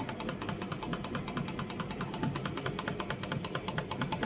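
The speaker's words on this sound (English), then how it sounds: "as the motor is running under no load" A PMDC motor running with no load on a single-phase fully-controlled converter drive, giving a steady, fast mechanical ticking and whirring with a faint low hum, moderately quiet and unbroken, with no voices.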